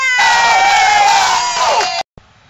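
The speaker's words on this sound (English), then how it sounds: "give a great big cheer" A crowd of children cheers and shouts loudly together for about two seconds, high excited voices layered into a bright roar that cuts off abruptly, leaving near-silence.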